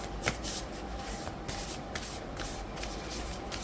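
Oracle cards are shuffled in a steady run of soft papery riffles and slides, close and continuous for several seconds with no voices.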